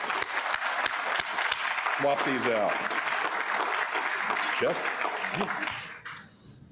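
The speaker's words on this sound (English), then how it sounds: "Let's have some applause for a job well done" An audience at a Rotary Club meeting in Fort Worth claps steadily for several seconds while a voice speaks over it, and the applause fades out at the end.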